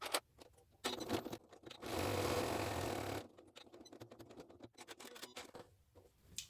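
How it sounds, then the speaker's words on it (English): Sewing machine top stitching along the side panels of a crossbody bag, about 3 mm from the seam: a steady motor whir of about a second and a half in the middle, with lighter stop-start bursts and handling around it. "So I'm now going to top stitch along these 2 panels"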